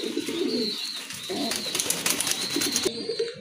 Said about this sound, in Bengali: এখানে কিন্তু বেবি সহ এক জোড়া রাজগোল্লা কবুতর আছে